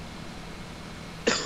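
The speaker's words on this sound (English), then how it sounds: "Panic cough." A single short cough is heard at the very end in the Just Cause 2 game on the oil rigs, following a steady wash of background game noise.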